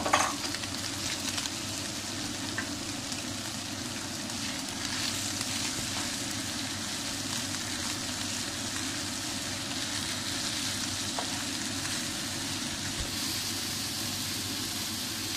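Onions sizzle in a pan for saç kavurma, a soft steady frying hiss that holds evenly from start to finish with faint stirring underneath.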